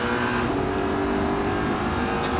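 An Audi R8 accelerates hard on a race track at Salon de Provence, its engine a loud, sustained, steady roar close by with no break.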